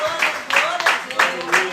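A church congregation claps together in a quick burst of applause during a service, the close, bright rapid claps swelling in uneven waves for a couple of seconds.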